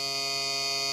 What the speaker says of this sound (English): That's a long beep.